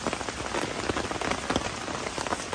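Heavy rain pounds steadily on a tent at a mountain campsite, a dense, loud, continuous patter of drops with no let-up and no voices.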